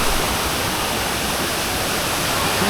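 A waterfall pouring heavy amounts of rushing water, a loud, constant, close roar that fills the whole scene without letting up.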